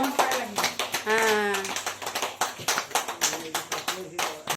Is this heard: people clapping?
yes